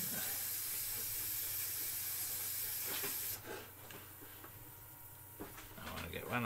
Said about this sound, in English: You're not so silent, compressor.